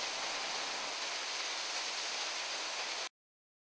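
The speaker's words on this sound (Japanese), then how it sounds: "苦労してたどり着いた幻の大滝、その名の通り谷間にひっそりと流れを見せていました" A remote, hard-to-reach large waterfall flows quietly in a valley, a steady, soft rushing hiss without breaks that cuts off abruptly, no voices present.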